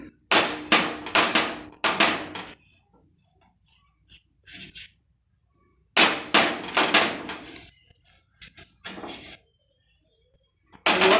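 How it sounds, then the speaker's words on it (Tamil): A knife cuts through hot peanut burfi in a tray, making sharp clacking taps against the tray in quick bursts, with two main clusters separated by quiet gaps. "இப்போ நம்ம ஒரு நைஃப் எடுத்துகிட்டு நம்ம அப்படி கட் பண்ணிடலாம்"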